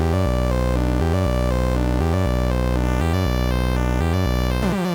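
Two synthesizer sequences from a Moog Labyrinth and a Dreadbox play together in a steady repeating pattern, a low pulsing bass sequence under a higher stepping melody, loud and continuous.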